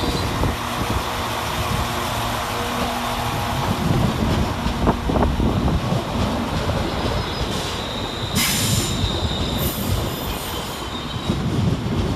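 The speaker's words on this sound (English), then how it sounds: "here comes 350 130, working the 1219 London Northwestern Railway service of Liverpool Lime Street to Birmingham New Street" London Northwestern Railway class 350 unit 350 130 passes through Crewe station on a Liverpool Lime Street to Birmingham New Street service, with a loud, continuous rolling rumble and a sharp wheel squeal rising near the end.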